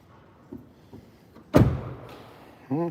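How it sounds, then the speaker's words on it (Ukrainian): A single solid thud of a Tesla Model Y Juniper car door shutting nearby, preceded by faint clicks and followed by a short electronic tone. "Двері закриваються"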